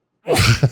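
A single close, sharp sneeze, with a quick inhaled build-up followed by a brief explosive burst.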